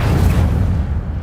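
Incendio fire spell cast in the Harry Potter: Hogwarts Mystery video game, a loud, short, deep whooshing boom that swells at once and fades within about a second.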